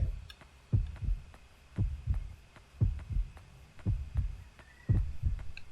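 Heartbeat effect in the horror video game Yomawari: Night Alone, a steady run of paired low thumps, about a dozen beats over several seconds, moderately loud and without speech.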